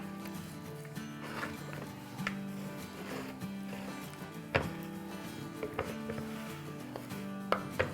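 Chicken pieces are stirred together with spices including turmeric and dried fenugreek in a bowl, giving soft wet rubbing and scraping with occasional sharper knocks, close and quiet, over a low background hum.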